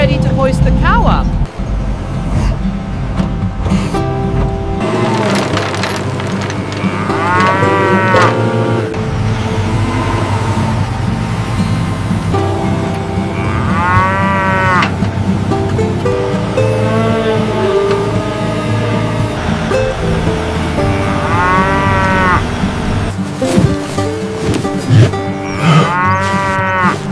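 A cartoon cow being hoisted up moos loudly several times in drawn-out, wavering calls, mixed with a vehicle engine running and lively background music.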